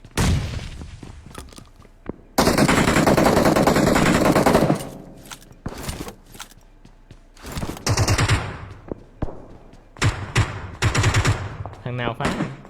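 Gunfire erupts in a competitive shooting video game, with a long sustained automatic burst followed by several shorter volleys, loud and close, as players talk over the action.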